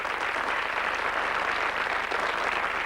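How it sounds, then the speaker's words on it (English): A studio audience at a Blockbusters game show claps in a continuous, even burst of applause that holds at a steady level throughout. "Give him another round of applause."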